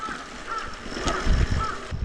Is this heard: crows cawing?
yes